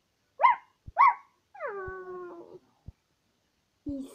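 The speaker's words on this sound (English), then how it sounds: "If you tickle him, he barks. Like, woof, woof." A half poodle, half Pekingese puppy gives two quick yips, then a drawn-out whining howl, then a short bark after a pause. Each sound is close and clear, with silence between the calls.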